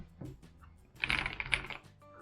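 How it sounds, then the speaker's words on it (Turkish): A quick flurry of clicky keystrokes on an Ajazz AK820 Pro mechanical keyboard, close and fairly crisp, with a few scattered taps before and after the main burst. "Klavye tuşlarının sesi gerçekten çok güzel."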